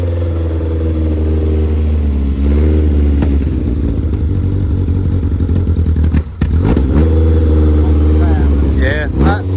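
A carburetted car engine runs at a steady, loud, close idle and is blipped a couple of times, its rumble briefly rising then settling; people talk over the running engine.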